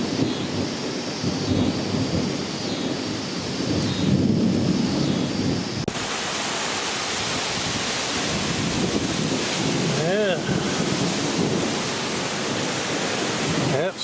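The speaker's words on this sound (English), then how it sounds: "Rain's increasing a little bit, along with the wind and lightning." Thunderstorm during a micro-burst wind storm with flooded streets: heavy rain hiss and gusting wind throughout, with deep thunder rumbles, growing louder and broader after the midpoint.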